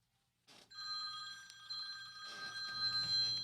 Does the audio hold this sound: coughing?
no